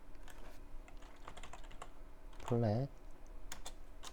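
Keys tapped on a computer keyboard while working in an Excel spreadsheet: a string of faint, quick clicks runs throughout under a low background hum, with a brief burst of voice in the middle.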